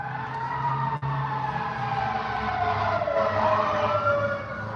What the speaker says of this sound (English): more fire engines to come.